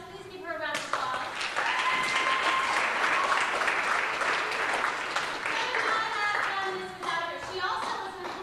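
An audience gives a steady round of applause for an assistant director at a stage performance, clapping building quickly and holding for several seconds before thinning out.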